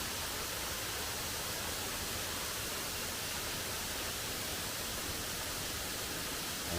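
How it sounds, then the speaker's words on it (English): Contentment Falls in Toccoa, Georgia, heard from the top of the falls above the rocks: a steady, loud, hissing wash of falling water that stays even throughout with no voices. "here we're standing on the very top of Contentment Falls, looking down at all the rocks"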